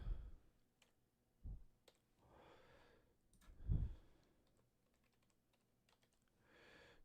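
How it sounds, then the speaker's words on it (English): Someone taps at a computer keyboard in scattered bursts of soft clicks, near and quiet, with a couple of low thumps and breaths between them. "Let me pull my keyboard over."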